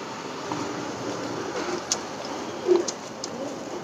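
A male tournament pigeon gives a soft, brief coo near the end, heard close against a steady low background hiss with a few faint clicks.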